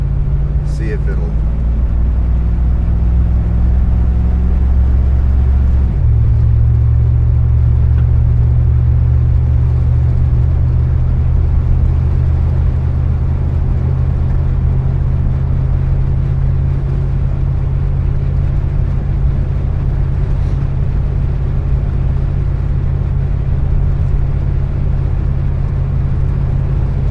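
A Chrysler New Yorker accelerates with a loud, continuous low engine rumble heard from inside the car. The pitch steps down once early on, as if shifting gear, then the drone holds steady under road noise.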